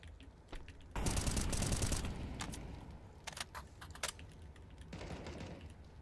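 First-person shooter gunfire: a dense, fast burst of shots for about a second, then scattered sharp single cracks and a later softer rattle, heard fairly close at moderate level with no talk.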